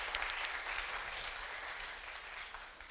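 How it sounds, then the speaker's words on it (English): A concert audience applauds a young piano student, a steady dense patter of clapping that holds for several seconds without any voices over it. "Give him a round of applause."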